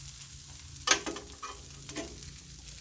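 Corn kernels frying on a 22-inch Blackstone griddle, a faint steady sizzle with a louder burst of scraping and stirring as the corn is spread out, then settling back to a low hiss.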